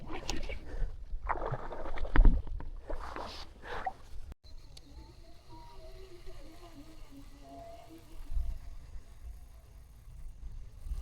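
A rowboat shifts and knocks on the water during a snakehead fishing trip with soft splashes and hull sounds, faint and close, with brief muffled voices early on.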